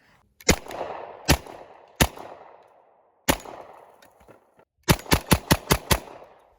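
A Hi-Point .45 ACP carbine fires sharp, loud single shots outdoors, four spaced apart and then a rapid string of six, each crack followed by a brief ringing echo.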